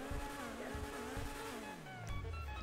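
Loud car engine in GTA 5 Online, a car with only rims and paint and no turbo, droning steadily with a rising and falling pitch, tire squeal near the end, and faint talk underneath.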